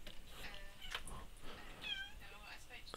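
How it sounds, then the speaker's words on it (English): A cat meows in Minecraft, a few short mewing calls heard faintly under a person talking over them. "I can hear a cat in the background."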